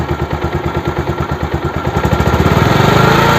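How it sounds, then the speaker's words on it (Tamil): A Bajaj DTSI motorcycle engine putters at idle with a steady pulsing beat, then the rhythm quickens and grows louder as it is revved up, heard close and alone. "இப்போ லைட்டாக வண்டியை ரைஸ் பண்ணுறோம் பாருங்கள்."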